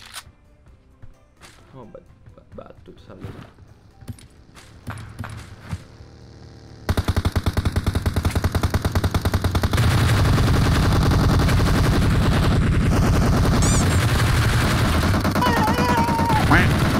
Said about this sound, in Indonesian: Nembakin dari jauh